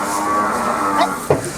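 A Jafarabadi buffalo moos as it is loaded onto a truck, a single low call rising near the end over steady background noise.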